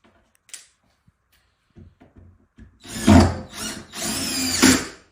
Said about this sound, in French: Et je viens visser dans la réservation.